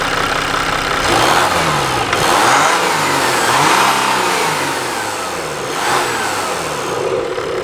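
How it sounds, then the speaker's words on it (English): A 2020 Jeep Wrangler Sahara Altitude with the 3.0 diesel being revved from idle, with several rising and falling throttle blips over a steady engine drone, close and loud, with no voices. "Let's give it some revs and see how it sounds."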